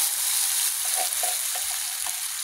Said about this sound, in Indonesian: Setelah baunya harum, ini kita masukkan bawang putih